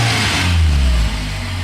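A high-mileage Toyota Tercel engine runs close by with a loud, steady low rumble that swells briefly before settling, with no talking.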